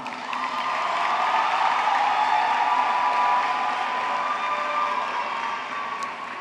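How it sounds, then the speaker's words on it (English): A large crowd at a high school graduation in South Atlanta applauds the graduating students, with broad clapping mixed with cheering and whoops, rising and then easing off in a big, slightly distant hall. "Please give them a round of applause."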